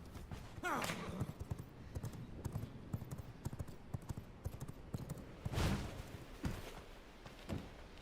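Hooves clip-clopping from a horse in the video game V Rising, irregular near thuds with a couple of sharper bursts, under scattered game sounds.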